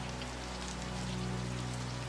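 Rain patters steadily on glass in a dense, even hiss with no pauses, soft and close under a faint low hum.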